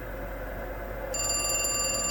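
Telephone ringing inside the video game The Cat Lady, a faint repeating electronic ring that starts partway through over a quiet ambient hum, no talking.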